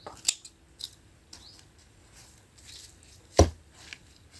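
Scissors snipping dried lavender stems for a straw-based lavender wreath, a few sparse close snips with one loud decisive cut near the end and no talk.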